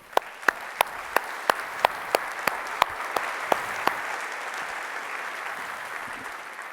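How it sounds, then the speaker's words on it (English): Audience applause at a corporate conference event, loud individual claps standing out over a steady wash of clapping for the first four seconds, then thinning into a softer sustained patter. "Please give them a very warm round of applause."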